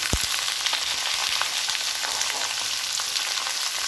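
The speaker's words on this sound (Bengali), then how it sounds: "এবার এর মধ্যে ভেজে রাখা আলু আর কুমড়োটা দিয়ে দেবো।" Fried potato and pumpkin tipped into a sizzling ginger tempering for a Bengali kumro alur torkari give a steady, close frying hiss, with a sharp thump at the start and light stirring clinks throughout.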